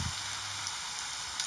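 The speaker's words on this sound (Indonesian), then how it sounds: "Kita goreng sampai matang ya" Steady, dense sizzling of a glutinous rice flour snack deep-frying in hot oil, a continuous crackling hiss with a few faint pops, close and even throughout.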